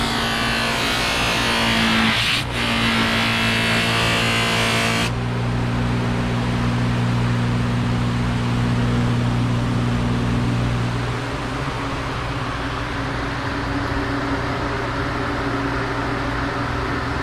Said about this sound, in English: Kind of boring watching buffing.